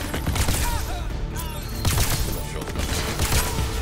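Dense, rapid pulse rifle fire from the game Crackdown 3 rattles out in continuous bursts, loud and busy, with a brief dip in the middle before the shooting resumes.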